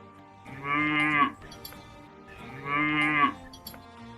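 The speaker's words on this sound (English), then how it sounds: "Cow," Two long, deep moos from a cow, evenly spaced and close by, with quiet background between them.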